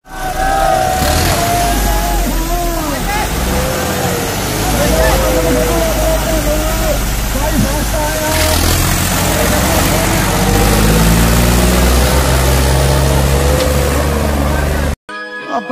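A tractor engine runs continuously nearby, a loud steady low rumble with mechanical clatter that holds for the whole stretch before stopping abruptly near the end.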